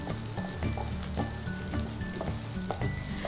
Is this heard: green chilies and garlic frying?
yes